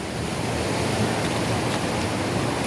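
Steady, dense rush of water over a small block in the East Race Waterway rapids on the St. Joe River in South Bend, a continuous loud roar with no breaks.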